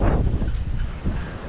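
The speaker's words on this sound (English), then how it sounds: "And it is brutally windy," Strong, gusty wind buffets the microphone at Lake Garda, Italy, a loud continuous low roar with surging blasts, cold and brutally windy conditions beside lakeside docks.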